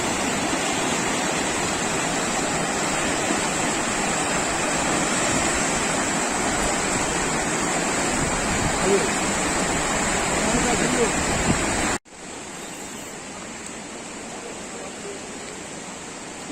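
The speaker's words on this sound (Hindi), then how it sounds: "पानी की आवाज़ बहुत ज़बरदस्त लग रही है" Mountain river rushing loudly beside a roadside breakfast spot in Pakistan's Kaghan Valley, a steady roaring wash of water that drops to a softer, more distant level near the end.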